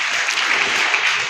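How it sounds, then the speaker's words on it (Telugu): A church congregation at a temple anniversary festival in Inimetla village, Palnadu district, claps hands in a dense, steady burst of loud, close applause. "చప్పట్లు కొడుతూ తండ్రి నామని మేము తెచ్చుకుందాం"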